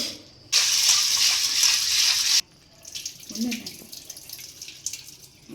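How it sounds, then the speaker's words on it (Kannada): Legumes being washed before pressure cooking: a tap gushes loudly into a vessel for a couple of seconds, then stops, followed by softer sloshing and rinsing water sounds up close. "ಮೊದಲಿಗೆ ಇದನ್ನು ನಾನು ಒಂದು ಸಲ ವಾಶ್ ಮಾಡ್ಕೊಂಬಿಟ್ಟು ಒಂದು 3 ವಿಷಲ್ ಕೂಗಿಸ್ಕೊಡ್ತೀನಿ"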